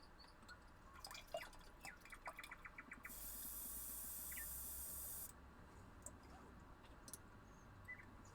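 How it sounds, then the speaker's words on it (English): An airbrush spraying cleaner through, a steady hiss lasting about two seconds with faint clicks and drips before and after it, quiet and close. "Airbrush cleaner through here."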